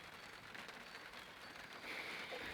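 Rain falls steadily outdoors after days of wet weather, a faint, even hiss of drops on surfaces that continues throughout and grows slightly louder toward the end.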